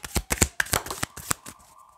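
Quick papery flicks and snaps of tarot cards being handled and drawn, several crisp hits in a rapid uneven rhythm, close and clear with no speech.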